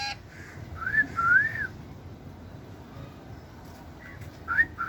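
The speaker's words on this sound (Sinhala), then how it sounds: "විසිල් එකක් ගහන්න බලන්න" A person whistles short rising and falling notes at a moderate distance, one longer phrase early on and a couple of brief chirps near the end, with quiet background in between.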